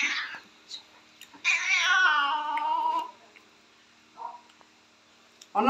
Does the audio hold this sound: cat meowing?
yes